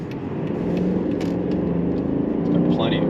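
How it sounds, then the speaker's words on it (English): A 2006 Mercedes-Benz S500 cruises with a smooth, low road and engine hum from inside the cabin, steady and unobtrusive beneath continuous talking. "The car drives as nice as it looks."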